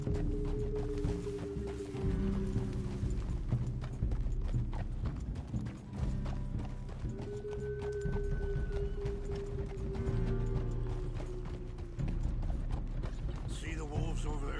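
Horse hooves clip-clop at a steady riding rhythm in first-person Red Dead Redemption 2, with creaking tack and a neigh, continuous and close under occasional talk and ambient music.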